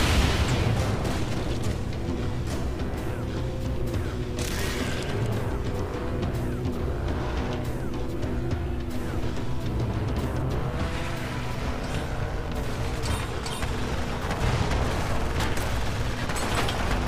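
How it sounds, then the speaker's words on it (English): Continuous explosions and gunfire in Renegade Ops as a helipad is blown up, a dense, loud barrage of booms and rumbling blasts layered over vehicle engine noise, with no clear pauses. "I'm gonna see if I can blow up this helipad."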